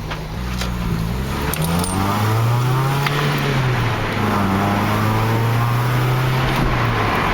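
A 2004 Toyota Celica, seventh generation, lowered on Direnza springs, drives on a short test run; the engine hums loud and close from inside the cabin, its pitch rising and easing with throttle over steady road roar.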